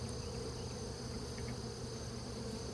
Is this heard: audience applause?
no